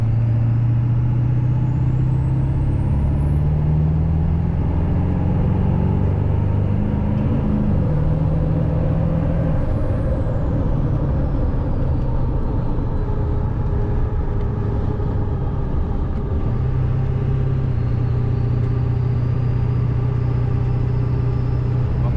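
A 7.3 Powerstroke diesel truck with an upgraded high-pressure oil pump rolls into wide open throttle on a freeway, with a loud, steady, droning engine and road roar heard from inside the cab and a faint high whine rising and falling.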